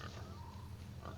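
Pig oinks from the video game Sea of Thieves, short grunting calls over a low steady ambient drone, close and moderately loud.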